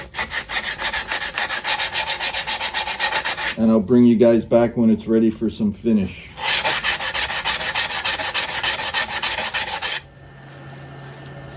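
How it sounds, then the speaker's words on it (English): Steady, rasping hand sanding of walnut on a spinning lathe, loud and continuous, broken by a short stretch of speech before the sanding resumes and then fades. "Continue sanding by hand."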